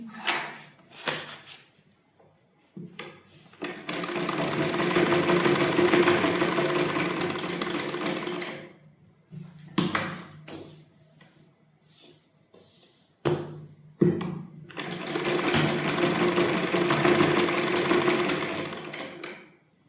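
A sewing machine stitches fabric in two long, steady runs of rapid needle clatter, separated by pauses filled with short bursts and handling noises, close and clear.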